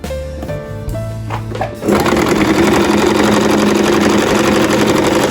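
A sewing machine stitching a shalwar starts with a few hesitant clicks and short runs, then settles into a loud, fast, steady mechanical whir of continuous stitching close to the listener.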